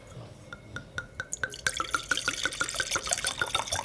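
French wine is poured into glasses, starting as a few sparse drips and turning into a quick run of bright, glassy splashes that grow louder and busier. No one speaks.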